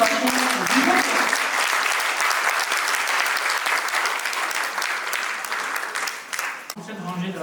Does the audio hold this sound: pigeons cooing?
no